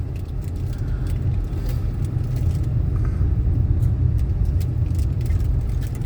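A car rolls slowly downhill on a hill road near Kalinjar Fort, held to about 20 km/h, with a steady low engine and road rumble throughout and light rattling, and no talk.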